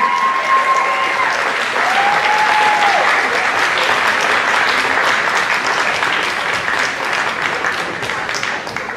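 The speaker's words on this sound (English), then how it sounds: "Let's have a huge round of applause for these couples." Loud, sustained applause from an audience cheering dance couples at an all-ages ability and inclusion event, a dense steady roar of clapping with a brief whistle-like tone near the start.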